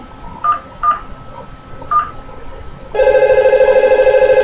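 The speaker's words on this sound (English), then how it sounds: "you can see the phone is ringing" An IP phone in Cisco Packet Tracer sounds three separate dialing beeps, then an electronic ring tone starts and keeps trilling steadily at high volume, with no talking.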